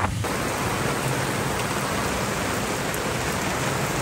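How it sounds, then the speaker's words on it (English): Heavy monsoon rain pours down during a storm on a boat ride near Tonsai, a loud, dense, continuous hiss that fills the whole stretch with no talk. "It wouldn't be a boat ride if we weren't soaking wet in a storm."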